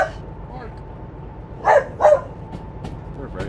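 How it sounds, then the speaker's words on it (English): A dog barks twice in quick succession at a moderate distance, two short sharp yips standing out over a steady low background hum. "I heard it barking."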